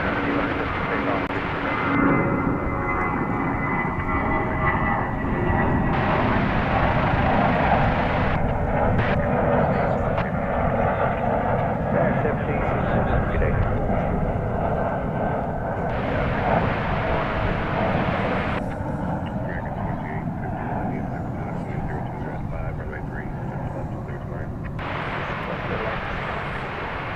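An airliner roars steadily on takeoff from runway 36 Right at DFW Airport, its engine noise continuous and fairly distant while air traffic control radio voices speak over it.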